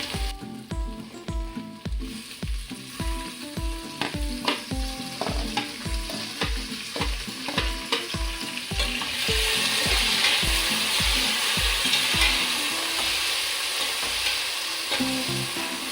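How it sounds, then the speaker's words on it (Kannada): Tomatoes fry in oil with garam masala and ginger-garlic paste for pulao, first under a fast, regular rhythm of stirring strokes, then settling into a loud, even, hissing sizzle; no speech. "ಸ್ವಲ್ಪ ಫ್ರೈ ಆದಮೇಲೆ ಟೊಮೊಟೊ ಹಾಕ್ಕೊಳ್ತಾ ಇದ್ದೀನಿ."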